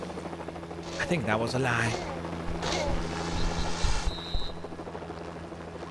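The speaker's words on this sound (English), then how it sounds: "There's another chopper coming!" A helicopter approaches in the LEGO Jurassic Park video game, its steady rotor rumble underlying game sound effects and thuds while someone talks over it.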